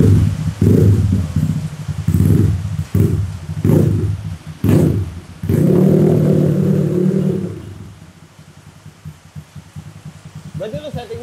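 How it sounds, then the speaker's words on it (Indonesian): A Kawasaki KLX 140 R trail motorcycle engine rumbles loudly in repeated revving bursts, then settles into a quieter idle toward the end. "suara knalpotnya di saat hujan-hujan"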